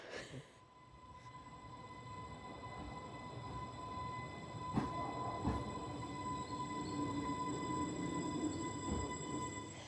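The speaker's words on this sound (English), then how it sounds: "My train's pulled in 15 minutes before departure." An Island Line electric train pulling into a station hums and rumbles steadily, with a sustained whine and a few sharp clanks as it rolls slowly along, fairly distant.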